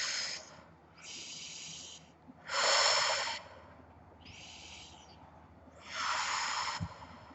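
Deep, slow breathing during a yoga ball stretch, heard as five broad airy breath bursts spaced about a second apart, moderately close and alone.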